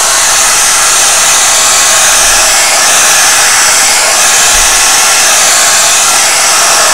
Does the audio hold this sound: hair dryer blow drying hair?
yes